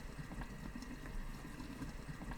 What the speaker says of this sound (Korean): 뚜껑 닫고 약불로 줄인 뒤 5분 끓입니다